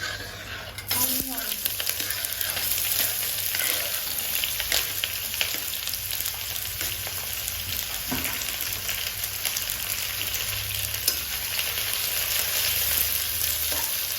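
Onion frying in hot oil in a pan while making chicken biryani, a loud steady sizzle that sets in after a brief quiet start and crackles continuously, close up with occasional stirring scrapes.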